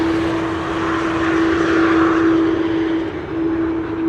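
A business jet on final approach to runway 27 at Amsterdam Schiphol roars steadily with a loud, sustained engine whine and broad rushing noise, strong and close throughout with a slight dip near the end.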